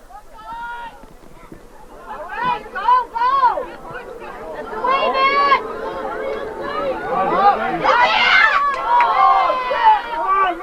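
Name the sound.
rowdy crowd at a boys' sports game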